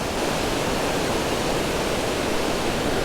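Water from a full lake rushes steadily down a spillway, a dense, unbroken roar of broadband noise that stays loud and even throughout with no voices.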